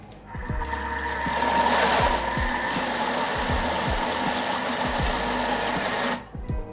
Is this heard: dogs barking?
no